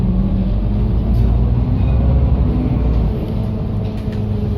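Riding inside an Iveco Urbanway articulated bus: a steady, loud low engine and road rumble fills the cabin, with no talking.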